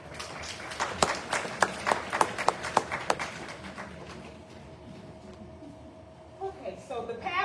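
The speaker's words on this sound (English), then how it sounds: "give a hand clap for our state superintendent" Scattered hand claps from a small audience at a school board and community meeting, sharp and distinct at first, then thinning out and fading before a voice returns.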